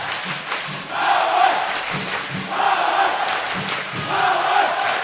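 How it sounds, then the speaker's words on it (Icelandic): Basketball arena crowd in a men's semifinal game between Haukar and KR, spectators standing and chanting in loud rhythmic waves that swell and repeat, with a commentator talking over it. "Áhorfendur eru allir staðnir upp, láta verið sér heyra."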